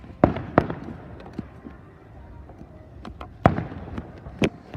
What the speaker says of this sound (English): A bunch of little small fireworks going off, so many at once